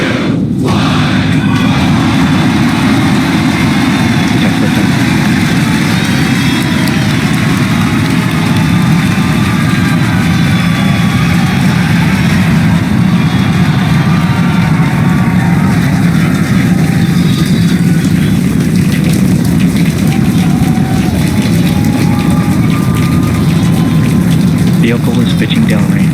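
A SpaceX Starship Super Heavy booster roars through liftoff with a loud, continuous low rumble that fills the whole stretch without pause, while a commentator speaks over the thunder.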